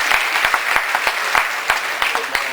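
A crowd at a Hindi poetry gathering (kavi sammelan) in Pune breaks into steady applause, a dense wash of clapping with sharp individual claps standing out, close and sustained.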